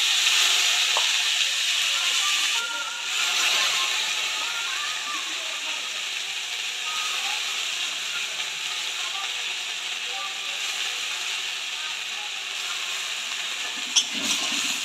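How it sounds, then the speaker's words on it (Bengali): Soaked mung dal goes into hot mustard oil and sets off a steady, loud, close sizzling hiss that runs unbroken throughout, with a brief sharp tap near the end. "ভেজানো মুগ ডালটা দিয়ে দেবো।"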